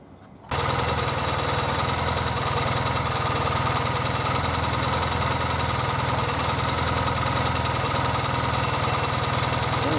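A Triumph Bonneville motorcycle engine is fired up and idles steadily, a loud close continuous rumble with an even, throbbing pulse that starts abruptly and holds without talk.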